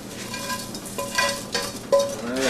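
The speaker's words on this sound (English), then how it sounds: "I'm ready to add the meat to the frying pan." Pork taco meat sizzles in a hot frying pan, with scraping and stirring sounds and a few light clinks of a utensil against the pan.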